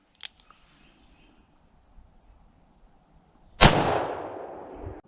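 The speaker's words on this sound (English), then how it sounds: "I'm going to be shooting 357 Magnum." A single loud .357 Magnum gunshot fired into a 1x6-inch wooden board during a penetration test cracks out sharply after near silence, then trails off in a long, rough, echoing decay.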